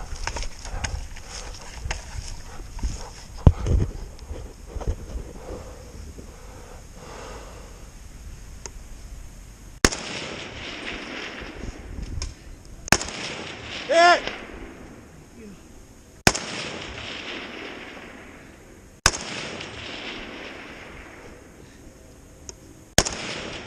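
Sharp, loud gunshots ring out one at a time at a winter run-and-gun shooting match, about five spaced reports each followed by a long echoing decay, after quieter handling noise and brief talk.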